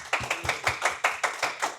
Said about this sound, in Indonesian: Tepuk tangan buat generalis